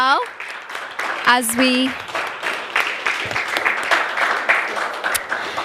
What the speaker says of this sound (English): So let's clap for all our speakers now